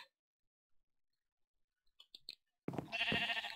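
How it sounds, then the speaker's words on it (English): A sheep in the video game Minecraft bleats loudly and close by, a single wavering bleat at the end after near silence broken by a few soft clicks. "there are sheep in this tree"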